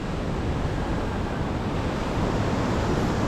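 Steady, loud roar of sea waves washing in without pause as a super typhoon approaches, with wind rushing across the microphone throughout.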